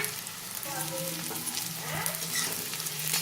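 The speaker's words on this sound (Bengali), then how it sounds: "এবারে গোবিন্দভোগ চালটা দিয়ে দিলাম" Gobindobhog rice fries with onions in oil, a close, even hiss of sizzling with faint stirring scrapes.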